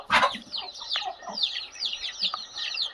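Several free-range desi chickens clucking and chattering together close by on a poultry farm, a busy run of short calls with no one speaking.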